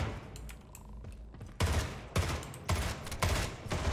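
Gunfire in the Splitgate arena shooter, several loud close bursts of automatic fire in uneven groups over faint game background.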